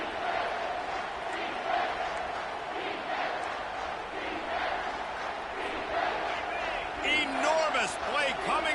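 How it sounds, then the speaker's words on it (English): A stadium crowd at a football game roars in a sustained, dense swell, with louder shouts rising toward the end under an announcer's talk. "this crowd is bringing down the house"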